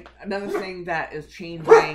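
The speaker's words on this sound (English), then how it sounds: "you have to excuse my dogs" Dogs bark and yip in short bursts close by, mixed in with a person talking over them.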